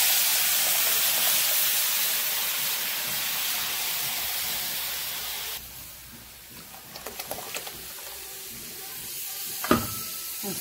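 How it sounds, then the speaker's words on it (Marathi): Mustard seeds, garlic and turmeric hit hot oil for a tempering, giving a loud, steady sizzling hiss for several seconds that then dies down into quieter scattered pops and crackles. "चला आता देऊया फोडणी।"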